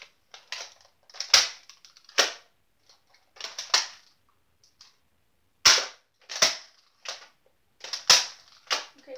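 Nerf toy guns fire in a string of sharp, snappy pops, some in quick pairs and others spaced apart across the stretch, fairly close and loud with no talking.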